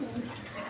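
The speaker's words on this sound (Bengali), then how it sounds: "এই পেয়ারটা রাসগোল্লা কবুতর" A Rasgolla pigeon, one of a male-female pair, gives a short, soft coo, faint and close, over low room noise.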